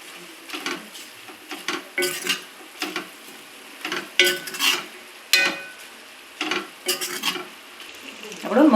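Spoon stirring fried corn poha into a simmering Kathiyawadi curry in a pot, with scraping clinks and soft sizzle in uneven bursts, close and alone.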